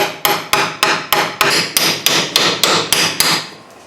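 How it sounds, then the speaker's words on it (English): Steady hammer blows on a socket driving an axle seal in, about a dozen evenly spaced strikes, each with a ringing metallic tail, close and loud with no voices. "hammer it on."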